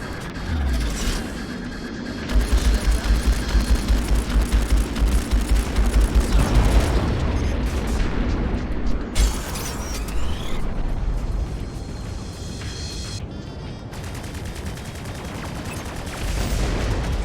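A space station's turret gunfire in the space combat game Strike Suit Zero: Director's Cut, rapid rattling bursts of shots over rumbling engine noise, heavy and sustained for several seconds before thinning out.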